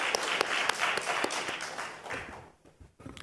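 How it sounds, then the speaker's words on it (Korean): A church congregation applauds a women's group at an afternoon Korean worship service, with brisk, close clapping for about two seconds that then thins out and fades to scattered claps and rustling. "우리 수고한 여성교회 박수 감사합니다."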